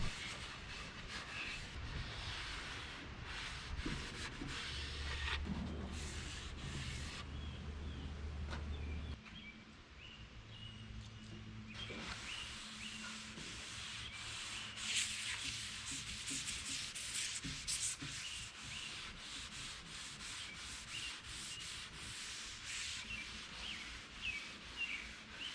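Sandpaper rubbing back and forth across a Broyhill Brasilia wood furniture piece during restoration, a steady close scratchy rasp that continues throughout with faint bird chirps in the background.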